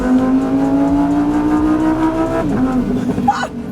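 Lamborghini Huracán Sterrato V10 engine revving loudly through its raised exhausts, a steady high-pitched howl that rises and then drops off sharply near the end, heard from inside the car.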